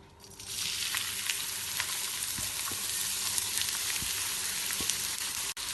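Chopped onion, ginger, garlic and sliced green chili drop into hot oil and break into a loud, steady sizzle that holds close and continuous, dotted with sharp crackles and a clink near the end.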